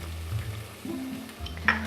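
Red onions hit hot coconut oil in a pan, a soft steady sizzle with faint stirring and a light utensil clink near the end, close and moderately quiet, with no speech.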